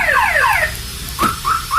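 Close and loud, a Toyota Kijang Kapsul car alarm, set off by a door not fully shut, gives falling chirps followed by short repeated beeps.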